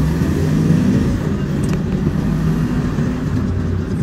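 Steady low engine drone and road rumble from inside an ambulance being driven to Pelikan Park, a continuous close hum with no change in pace.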